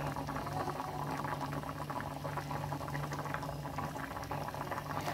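Apricot dessert syrup simmers in a pot for Hyderabadi qubani ka meetha, a close, steady bubbling and popping boil throughout, no talking.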